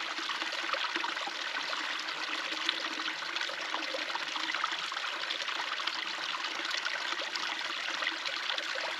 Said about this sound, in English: The water running, it actually wasn't running this much when I first got here.